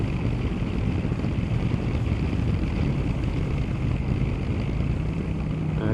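A 1983 Honda CX650 Turbo motorcycle engine runs steadily and loudly up close, a dense low-pitched drone with wind rush over it and no clear revving changes throughout.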